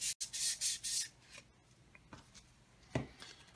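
Rapid scratchy rubbing strokes of sandpaper scraping a hard plastic cranial band helmet come in a quick rhythmic burst, then give way to a few scattered softer scrapes.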